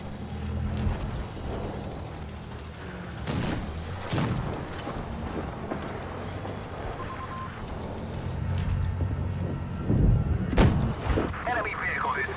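Tank cannon shots strike armor amid a busy tank battle video game, with several deep booms and sharp impacts over a rumbling engine bed, close and loud with a voice speaking briefly.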